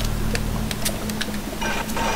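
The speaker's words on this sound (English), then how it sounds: "Let's actually spend this second to reload." Reloading a weapon in Bioshock, with a low steady hum underneath a run of short, faint mechanical clicks and clacks that thicken into a busier rattle near the end.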